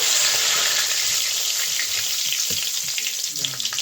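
Panch phoron whole spices and bay leaves hit hot refined oil in a kadai, giving a loud, steady sizzle and hiss that runs the whole time, with a few soft clicks of stirring underneath.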